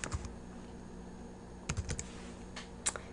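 Typing on a computer keyboard, a few quiet scattered keystrokes with pauses between them against faint background hiss.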